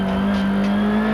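A 1995 Supertourisme touring car with a sequential gearbox at Paul Ricard, braking hard into a corner and downshifting. Its engine holds a loud, steady, close-up drone for about a second.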